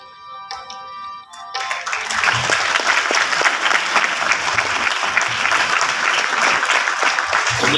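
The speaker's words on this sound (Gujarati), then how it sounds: "આપણે સૌ તાળીઓના નાદ વડે આ ક્ષણોને આવકારીએ આ ક્ષણોને વધાવીએ" At the Sandipani Guru Gaurav lifetime achievement award ceremony, a brief tonal voice-like sound gives way after about a second and a half to loud, sustained audience applause that continues to the end.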